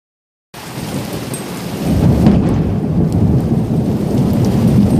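Heavy rain pours steadily through an open veranda window while thunder rumbles low and close, the downpour swelling louder after a brief silent start.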